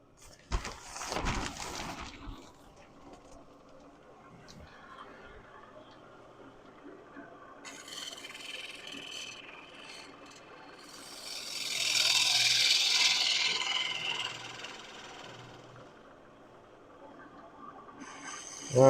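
A small spindle gouge cutting a wood blank spinning on a lathe: a steady, hissing rasp that swells into a louder, brighter cutting passage partway through, heard up close without talk.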